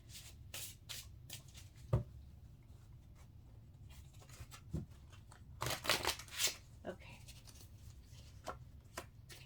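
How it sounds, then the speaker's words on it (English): Radiant Light oracle cards are handled and shuffled in a quiet room, with soft papery riffles and taps coming in irregular bursts and a few sharper knocks against the table. "let me get a couple cards from the Radiant Light deck here."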